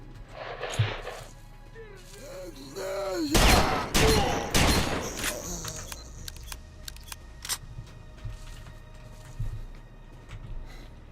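Gunfire from computer-controlled fighters in S.T.A.L.K.E.R.: Shadow of Chernobyl, a cluster of loud overlapping shots and bursts near the middle, with scattered fainter shots and game ambience around them and no talk.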